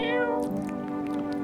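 A cat meows loudly and close in the video game No, I'm Not A Human, a single drawn-out meow with no talk over it.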